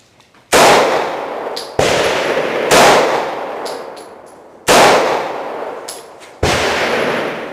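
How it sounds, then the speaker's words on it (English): Loud, close shots from a Kahr CM9 pistol ring out about five times at uneven intervals, each a sharp, clanging report followed by a lingering ringing tail, with no talking. "this is 3 more rounds for the Kahr CM9"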